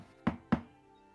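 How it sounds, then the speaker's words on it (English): Two firm knocks on a door, spaced about a quarter second apart, close and fairly loud, with a short resonant thud on each strike and quiet afterward. "just knock on the door"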